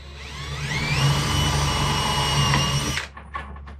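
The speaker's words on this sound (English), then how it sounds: "now I'm going to drill a hole for the first truck hole, and I'm going to push down really hard" A power drill bores a truck hole through a skateboard deck held in a jig, pressed down hard, running loud and steady for about three seconds before cutting off, followed by a couple of faint clunks.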